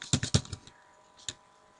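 A handful of quick keystrokes on a computer keyboard while entering HTML code: a tight cluster of clicks at the start, then a pause and one last lone tap, close and crisp with no talking.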